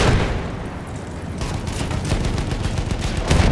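Gunfire and battle noise in the Battlefield 1 video game: dense, continuous bursts of shots and booms with a rough, crackling texture, loud throughout with no pauses.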